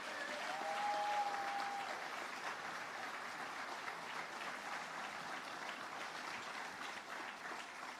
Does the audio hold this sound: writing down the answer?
no